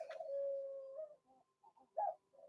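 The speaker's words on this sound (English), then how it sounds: "He's like the tiniest little bird, and he's so loud." A tiny bird calls loudly nearby in short, separate bursts, with one long sustained note followed by brief chirps and pauses.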